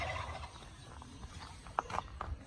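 A large fowl resembling a big chicken calls at a zoo, a few faint, sharp gobbling bursts near the end over a quiet outdoor background.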